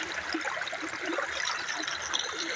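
Clean rainwater running out of a marsh at a rural smallholding in northeastern Brazil, a steady, fairly close trickling flow with no talking.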